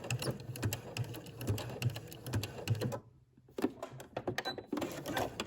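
A sewing machine back stitching the skirt side seam of a Simplicity 8874 maxi dress: a quick, even run of stitches, a brief pause near the middle, then another burst of stitching.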